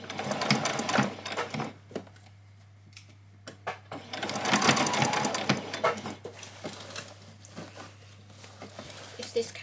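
A sewing machine stitches a child's dress in loud bursts of rapid mechanical whirring that stop and start, with short pauses between runs.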